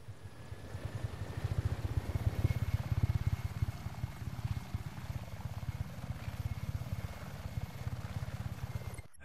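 Helicopter in the Just Cause 3 video game, steady rapid rotor thudding with a low engine drone, loud and continuous throughout with no talk.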